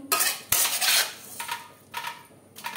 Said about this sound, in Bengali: আলুর সাথে লবণ হলুদ ও কাঁচা সরষের তেল মিক্স করে দিলাম।